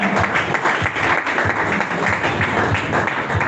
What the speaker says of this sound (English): Clap now, clap for your sponsor.